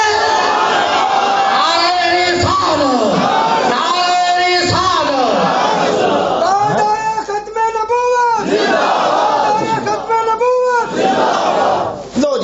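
A large congregation in a mosque loudly chants religious slogans in unison, repeated rhythmic call-and-response shouts from many voices filling the hall.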